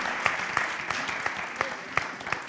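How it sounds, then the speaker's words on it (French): Conference audience applauding, a steady even patter of many hands clapping at moderate loudness, with a few sharper claps standing out. "Que l'on peut applaudir, mesdames, messieurs."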